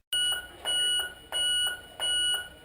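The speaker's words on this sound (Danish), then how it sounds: "Men stilheden bliver pludselig brudt af en alarm." An electronic alarm sounds at a fire station in Aalborg, a loud repeating pattern of bright tonal beeps in four evenly spaced bursts, alone with no voices.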